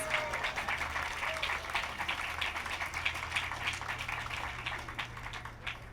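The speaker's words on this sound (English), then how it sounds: "So if we could give her another round of applause, please." Audience applause at a UCLA Latina politics event, a steady dense patter of many hands clapping throughout, moderately loud in a hall with a faint low hum beneath.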